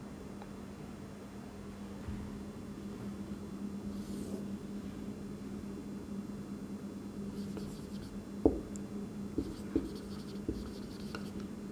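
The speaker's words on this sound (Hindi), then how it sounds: "यहाँ पे लिख देते हैं, इसको रेस कर देते हैं, इसी के नीचे एंट्री लिख देते हैं।" Accounting entries written on a board during a class: soft, intermittent scratching strokes against a steady background hum, with a few sharper taps near the end.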